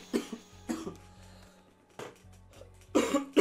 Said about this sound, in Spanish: Hay una disculpa por la tos.